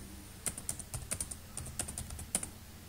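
Quiet clicks of typing on a computer keyboard, a short irregular burst of light keystrokes close to the mic with no speech.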